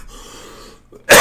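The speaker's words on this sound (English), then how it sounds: "I swear I don't start coughing until I sit in here and start." A person coughs once, a single loud, sharp burst near the end that follows a stretch of quiet room tone.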